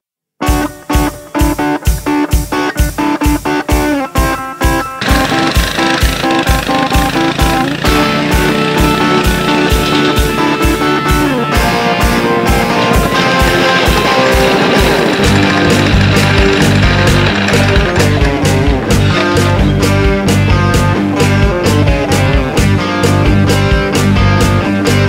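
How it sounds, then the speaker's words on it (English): Springer motorcycle with a raspy exhaust note, running loud and close with a steady pounding beat of firing pulses that quickens slightly and continues throughout. "see if we can't cut down some of the raspiness of the exhaust note on a Springer bike"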